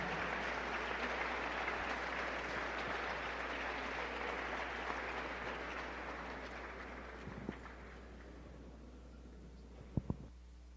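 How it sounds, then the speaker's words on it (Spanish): A congregation applauds steadily in a large room, the clapping slowly fading out, followed by a couple of sharp knocks near the end. "damos un aplauso a Dios"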